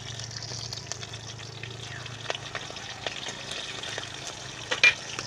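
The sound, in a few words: green chillies frying in hot oil with five-spice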